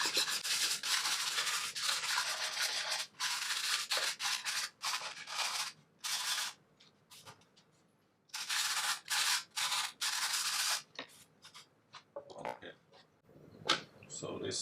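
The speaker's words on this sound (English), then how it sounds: "give a little bit sanding to make the edge a little bit more pop up" Someone hand-sands the edge of a burnt, stained guitar body with rhythmic back-and-forth rasping strokes. The bursts are close and fairly loud, separated by short pauses, and end in a few sparse taps and scrapes.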